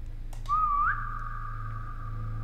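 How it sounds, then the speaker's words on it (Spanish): A single person whistles one short note that bends and wavers, then holds a long steady tone inside a quiet furniture store, with a low hum underneath and no talking. "Voy a chiflar."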